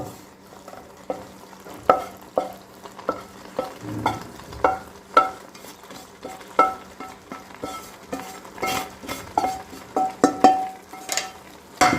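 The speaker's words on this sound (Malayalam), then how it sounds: "അപ്പോൾ നമ്മൾ മുട്ട ആഡ് ചെയ്ത് ഫ്ലെയിമൊക്കെ കുറച്ചാണ് വെച്ചിരിക്കുന്നത്" Egg bhurji sizzling in a pan over a low flame, with soft steady frying hiss broken by repeated scraping and stirring clicks of a spatula against the pan, close and moderately loud, no talking.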